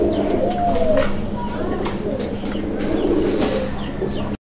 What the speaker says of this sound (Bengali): এখানে একটা সিঙ্গেল কবুতর আছে